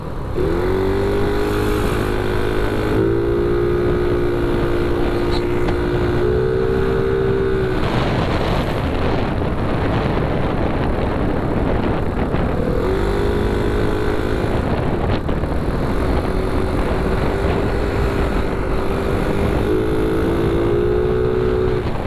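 A motorcycle fitted with a Domino quick throttle and a B8/B3 exhaust pipe revs repeatedly, its engine note rising and falling in loud, close surges over constant wind noise.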